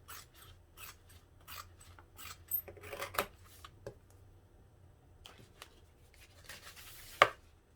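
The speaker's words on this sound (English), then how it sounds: "now I'm just trimming these seam allowances down to about 1/4 of an inch" Scissors snip through vinyl seam allowances on a sewn bag, a series of short, sharp, close cuts in irregular bursts separated by quiet pauses, with one louder snap near the end.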